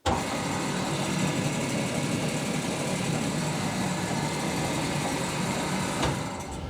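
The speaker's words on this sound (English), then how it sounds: "Now the whole idea of the blower is just to keep the chips moving away from the line so you can actually see what you're cutting." A chip blower on a DoAll bandsaw drive system switches on with an abrupt onset and keeps up a steady, close whooshing hum, unbroken and even, with no voices.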